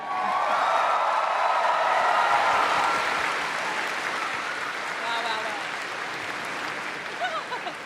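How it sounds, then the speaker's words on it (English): A big crowd at Star Wars Celebration applauds the cast of The Acolyte, a loud, dense roar of clapping that peaks early and then eases to a softer, sustained patter with scattered voices. "can we please get one more round of applause"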